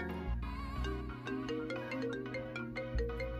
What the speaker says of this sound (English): I put a speaker under my grandma's bed and kept playing a ringtone